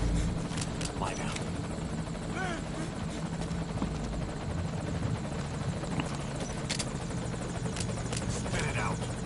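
Helicopter from the video game Metal Gear Solid V arriving at a landing zone, a steady loud rotor drone running throughout with background game speech and radio chatter over it.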